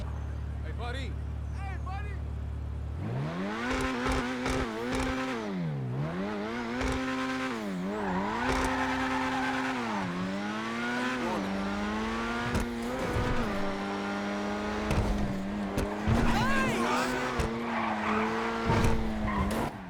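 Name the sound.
sports car engine in video game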